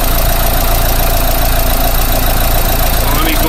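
A Renault Megane MK3 engine idles steadily right after starting, with a loud, close, even rumble and a faint knocking texture that holds unchanged throughout.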